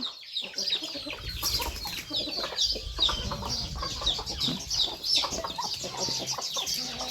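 Several chickens being chased clucking and squawking in a busy, agitated jumble, close by, with some wing flapping and scuffling underneath.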